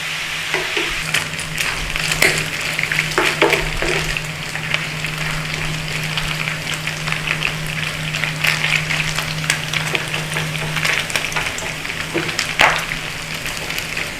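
Bacon fries in a pan, a loud, steady crackling sizzle with frequent pops and occasional stirring scrapes, continuous and close, with no one talking.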